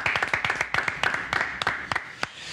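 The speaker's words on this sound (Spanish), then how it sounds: "Fuerte aplauso para Fernando Ballesteros." Studio audience on a Spanish-language evening TV show claps for a guest, a short burst of sharp, fairly sparse hand claps that thins out and stops within a few seconds.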